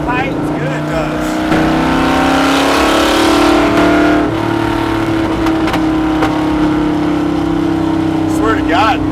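A widebody C2 Corvette with a big block 427 V8 and straight pipes roars loud and close from inside the car, its deep engine note swelling as it accelerates and then holding a heavy, rumbling drone.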